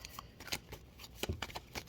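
Tarot cards are shuffled close by in short riffling bursts, crisp flicks and soft slaps coming in quick uneven runs.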